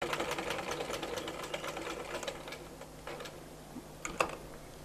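A sewing machine stitches a baby fotua garment close by, with a rapid mechanical whirring and clicking that runs steadily, slows near the end and finishes with a sharp click.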